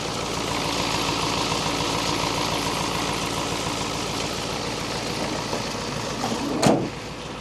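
An old Ford truck engine runs steadily and loud throughout, with a brief sharper surge near the end as it revs up.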